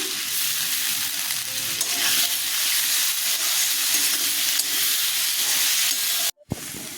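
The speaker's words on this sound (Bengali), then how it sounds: "আলুগুলো ভাজা হয়ে গেছে" Potatoes fry in a pan of oil with a steady, close sizzling hiss that runs continuously, broken near the end by a brief gap and a utensil knock.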